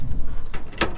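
Opening the door of a 1984 Toyota truck with its door panel removed: a few quiet mechanical rattles, then a sharp metallic latch click and clunk near the end, close by.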